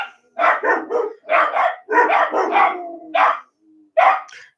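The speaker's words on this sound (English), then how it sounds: "We only got 2 dogs. They bark at the wind blowing." Two dogs bark in loud, repeated bursts close by, with a few short gaps between volleys and a brief yip near the end.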